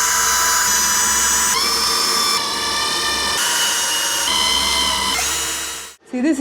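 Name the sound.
power drill driving screws into beam for plastic slats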